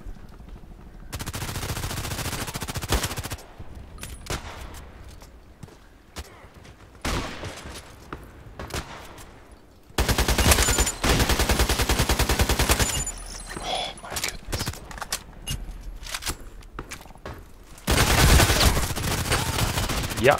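Bursts of gunfire in the sniper video game ADXsniper come in several loud stretches with quieter gaps between them, and a voice speaks briefly in the lulls.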